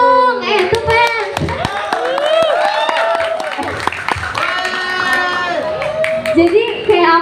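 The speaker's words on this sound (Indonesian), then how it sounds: "Tepuk tangan dong, itu fans." Fans clap at a JKT48 talk show event with former group members, a loud close burst of many hands applauding while voices talk and call out over it throughout.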